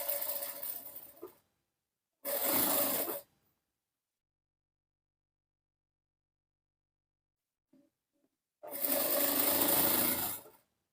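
A sewing machine stitches a blouse neck piece in short bursts, three runs of whirring motor separated by silence, close and clear with no talking.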